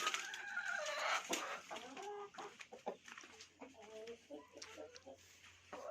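Chickens cluck and murmur in a poultry coop at a small backyard chicken farm, with soft overlapping calls close by and a person speaking quietly among the hens.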